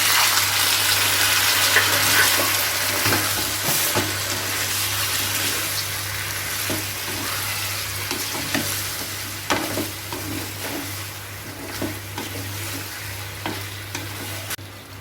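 Water poured over sizzling vegetables for shukto, a Bengali mixed-vegetable dish cooked with milk and coconut, loud hissing and bubbling with a steady low hum, then stirring scrapes and clatters as the sizzle fades.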